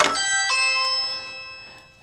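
Doorbell chime ringing indoors, a bright multi-tone electronic ding-dong with two strikes about half a second apart, sustained ringing tones fading out over two seconds, heard alone.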